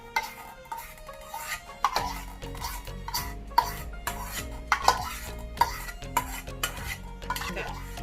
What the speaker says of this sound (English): I'm going to mix the cream cheese mixture into the egg yolk